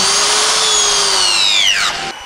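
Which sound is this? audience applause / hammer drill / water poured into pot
hammer drill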